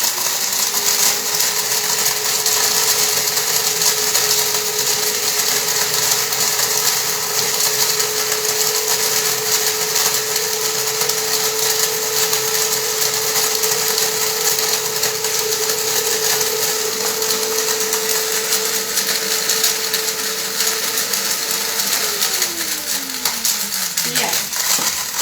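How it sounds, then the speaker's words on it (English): An electric coffee grinder grinding Kenyan coffee beans, a loud continuous whirring drone that holds steady for most of the run, then winds down in pitch as the motor slows near the end. "Kenyan straight in the grinder"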